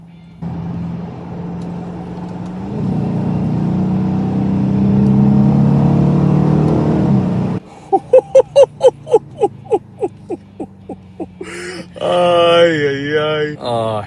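A 2023 Dodge Challenger R/T engine accelerates hard, its loud drone climbing steadily for several seconds before cutting off as a person starts talking close by.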